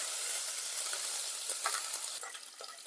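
Curry leaves, fenugreek, ginger and garlic fry in hot oil while being stirred, giving a steady, close sizzle with scraping spoon strokes throughout and no talk.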